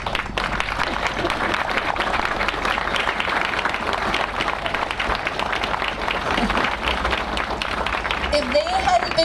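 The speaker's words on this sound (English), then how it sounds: "I would like for them to stand up so we can give them a round of applause" Audience applause at the Glacier Rail Park grand opening celebration, a steady mid-level patter of clapping from an outdoor crowd, with voices mixed in and a faint vocal sound near the end.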